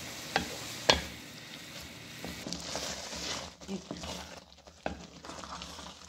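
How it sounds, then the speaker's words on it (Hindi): Malai halwa roasting in a pan gives a soft, continuous sizzle with sharp spatula clacks and scraping strokes near the start and scattered quieter stirring later. "हमारा हलवा जो है वो देखिए भुन रहा है"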